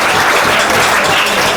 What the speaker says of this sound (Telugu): క్లాప్స్ ఇద్దాం.